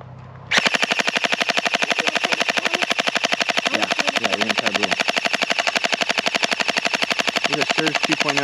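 A Surge 2.0 gel blaster fires in a long continuous burst of rapid, evenly spaced shots, loud and close, with a faint voice briefly underneath.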